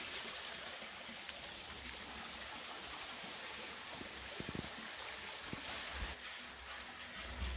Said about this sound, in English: You can see the water still in there, actually flowing from the spring.